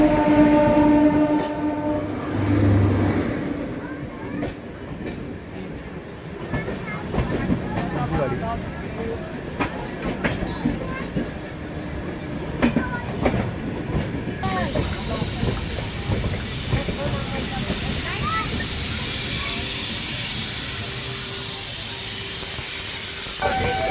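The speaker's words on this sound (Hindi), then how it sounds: "ये हमें क्रॉस हो रही है आनंद विहार बनारस गरीब रथ एक्सप्रेस" Anand Vihar–Banaras Garib Rath Express passing close by at Ghaziabad Junction, a loud sustained rush of wheels and carriages with hissing and clatter, a horn-like tone early on, heard from an adjacent train with faint voices.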